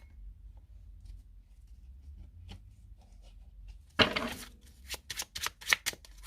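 A 32-card deck shuffled for a card reading, quiet room tone at first, then a sudden riffle followed by several quick, crisp card flutters and snaps close by.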